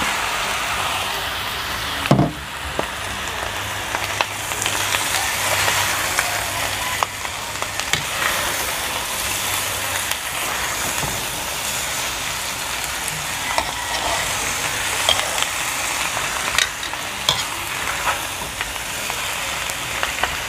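Pork liempo sizzles and fries steadily in a pan with ginger, a continuous close crackle with a brief louder clatter early on and no talk.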